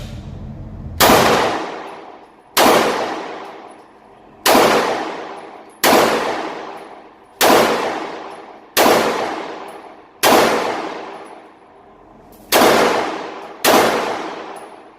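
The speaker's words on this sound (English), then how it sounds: "We'll throw some rounds and try and hit that spot." Nine loud, sharp shots from a Walther Creed 9mm pistol fired at a target, spaced about one to two seconds apart, each with a bright crack and a decaying ring-out.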